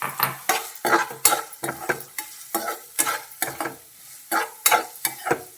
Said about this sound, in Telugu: ఎగ్గులోకి పచ్చిగా లేకుండా ఉల్లిపాయలు మనము దూరగా వేయించుకుందాం